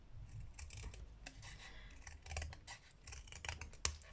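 Scissors snip through paper in a run of crisp cuts, the blades slicing and rasping close by in uneven bursts while someone tries to cut a straight line, with no voices.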